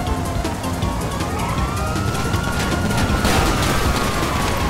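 A police car siren wails in GTA 5, its rising and falling tone riding over loud, dense driving and engine noise for the whole stretch.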